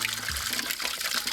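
Water runs from a public drinking fountain in Spain, a close, steady splashing trickle for about a second.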